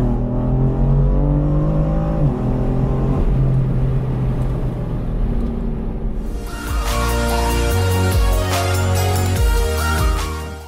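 A bootmod3-tuned BMW accelerates hard through the gears, its engine note climbing loudly and dropping at each shift, with a sharp burst of higher, rasping exhaust noise in the second half before easing off.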